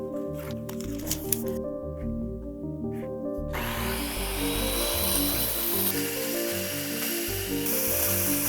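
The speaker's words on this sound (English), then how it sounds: "I'm going to cut this plywood" Power tool cutting plywood in a studio workspace: a whining motor rises and falls in stuttering bursts, then settles into a louder, continuous grinding roar as the cut goes on.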